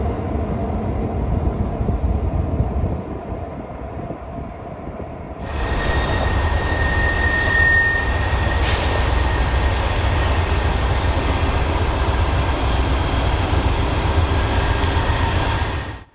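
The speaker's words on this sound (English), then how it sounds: "The action starts with an outbound EXO commuter train departing" An outbound EXO commuter train departs Montreal's Gare Central, a loud continuous rumble of diesel engine and rolling wagons that steps up sharply in intensity partway through, then holds a steady roar to the end.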